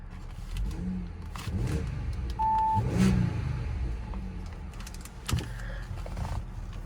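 A 2014 Audi A6 Premium Plus Quattro starts with a brief crank surge, then settles into a steady low engine rumble, heard close and alone with a few small clicks and rattles.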